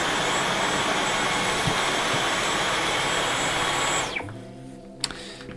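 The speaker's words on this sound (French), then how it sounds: "J'essaye d'aspirer ça en mode éco" A Dyson V11 cordless vacuum runs on eco mode with its parquet brush, giving a loud, steady, close whine that winds down and cuts off near the end and is followed by a few small clicks.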